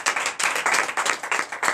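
Lively group clapping during a church morning prayer service, fast and steady, with bursts of rhythmic applause rising and falling, no voices.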